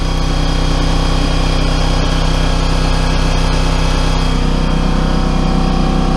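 A steady, loud air compressor drone runs continuously with a rough mechanical whine, chugging nearby without pause in a garage during car repair work.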